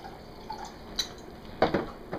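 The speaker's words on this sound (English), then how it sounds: "One cup of vinegar into the pot." Vinegar, apple cider and red wine, is poured into a pot for homemade hot sauce, heard as a few soft drips followed by a brief, close liquid splash in a quiet kitchen.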